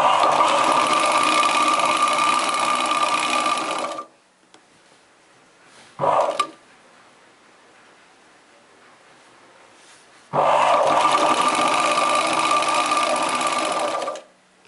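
An electric sewing machine stitches a chudidar top in two long, loud, steady whirring runs, close by, with a brief burst between them and quiet pauses in between.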